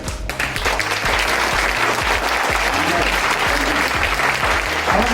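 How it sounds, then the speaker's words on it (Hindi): A seated audience claps steadily and densely at a basic training program in Prayagraj, the applause sustained and even for several seconds, with a voice faintly present underneath. "हम जो ताली बजा रहे हैं ना, जिस स्पीड से बजाएंगे"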